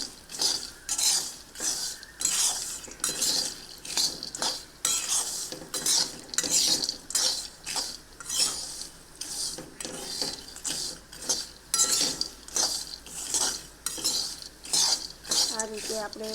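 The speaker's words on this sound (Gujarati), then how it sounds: "સરસ રીતે ગોટલી ઘીમાં શેકાઈ ગઈ છે." Pieces of mango kernel roast in ghee in a pan while a utensil stirs them, giving repeated rhythmic scraping strokes over a faint sizzle.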